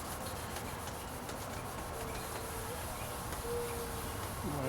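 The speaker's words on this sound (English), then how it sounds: "I'm going to begin rubbing the lamp" A car headlight lens coated in baking soda and vinegar is rubbed by hand in circular motions, giving a faint, continuous scrubbing hiss that stays steady throughout with little variation.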